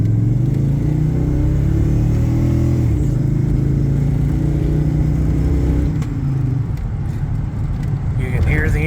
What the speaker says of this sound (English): You can hear the engine breaking up and misfiring up in the upper RPMs.